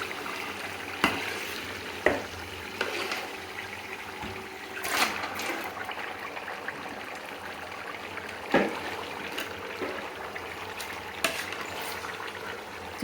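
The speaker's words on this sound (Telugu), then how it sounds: "చికెన్ వేసేస్తాం." Raw chicken added to a hot pan of frying masala with ginger-garlic paste and fried onions for a chicken and potato korma, sizzling under scraping stirs, with several louder clatters and wet splashes, close and moderate.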